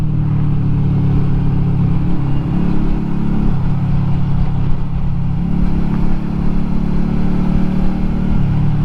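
A custom motorcycle with about 17,000 km on it is heard while riding, its loud, close engine droning steadily with slight rises and dips in revs and continuous wind noise, with no talk.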